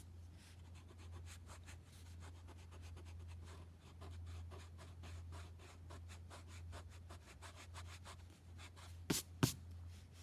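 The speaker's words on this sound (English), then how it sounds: "you can go ahead and erase those" Eraser rubbing out pencil construction lines on paper for a lip drawing, a quiet close series of quick back-and-forth rubbing strokes over a low hum, ending with two sharp taps.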